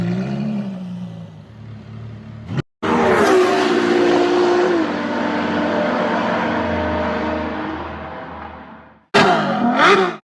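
A video game car roars loudly, engine revving hard and sustained over several seconds between abrupt cuts, with tyre squeal and a brief surge of revs at the end.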